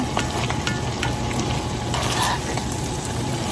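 Squash and ground beef sizzle steadily in a pan for a one-pan Tex-Mex dinner, with a loud, continuous hiss broken by light spoon scrapes as everything is stirred together; no one speaks.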